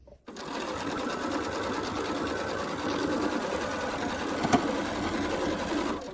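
A sewing machine stitches fabric, with the presser foot lifted now and then to ease the cloth. Close and steady, the motor hums continuously for the whole stretch, with one brief click near the end.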